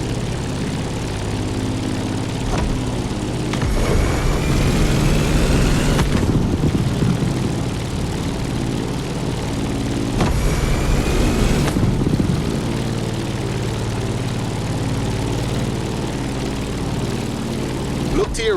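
A propeller airplane engine drones steadily in flight during a climb in The Crew Motorfest video game, a continuous loud hum with swelling passes, while a voice talks over it.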